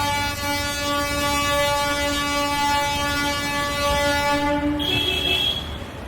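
A train sounds its horn at Sealdah Station in Kolkata, a loud, sustained, rich horn blast held for several seconds before shifting pitch and fading.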